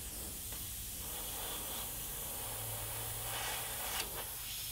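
Airbrush hissing steadily as it sprays a white and blue paint mix for flame highlights, a continuous close airy spray with brief breaks and a low hum underneath, no talking.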